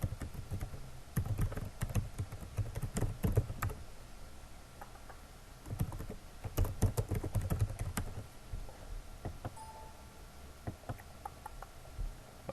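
Fingers tap out a web link on a computer keyboard, irregular bursts of light clicking keystrokes with short pauses between groups, fairly quiet and close, no voices.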